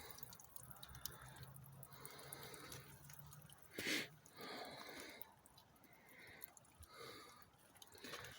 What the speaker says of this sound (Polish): Nadmiar wody się przelewa i, i kapie.